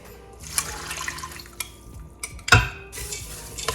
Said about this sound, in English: I'm just gonna mix this in here.